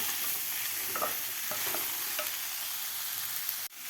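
Mixed vegetables sizzle and fry in a pan for khichdi, with steady close stir-frying hiss, a few soft spatula scrapes, and a brief knock near the end.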